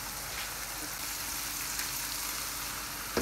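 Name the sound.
spices sizzling while being roasted in a pan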